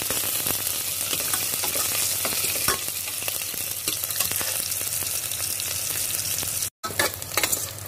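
Onion and garlic sizzle in hot tempering oil for a mixed vegetable palya. A dense, continuous frying hiss runs throughout, with light stirring scrapes and one brief break near the end.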